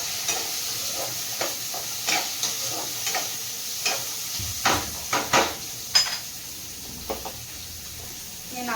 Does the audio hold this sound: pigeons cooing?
no